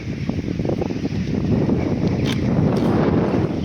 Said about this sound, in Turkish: Oo, acayip bir rüzgar var